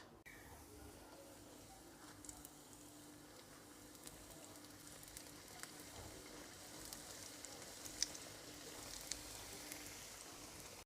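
Samosas frying in hot vegetable oil, a steady low sizzle with faint crackling pops throughout, fairly quiet and even.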